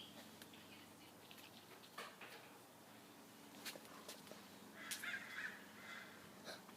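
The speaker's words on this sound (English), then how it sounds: "Yep, they're coming back. Who are? The crows." Crows cawing outdoors, faint and somewhat distant, scattered harsh calls over quiet background with light rustling and footsteps.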